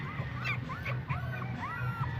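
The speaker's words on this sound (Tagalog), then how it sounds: "Unahin natin yung pinakamaliit na tuta." A small puppy whimpers and yips in short, high, repeated cries close by, over a low background hum.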